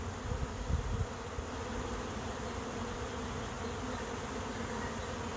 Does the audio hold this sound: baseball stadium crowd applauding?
no